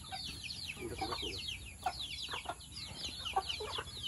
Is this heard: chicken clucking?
yes